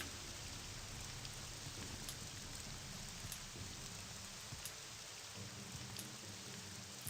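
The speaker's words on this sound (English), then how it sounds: "Rain in the Ashlands." Rain falling in the Ashlands region of the Morrowind video game, a steady soft hiss of raindrops with faint periodic ticks, continuous and even at low volume with no voices.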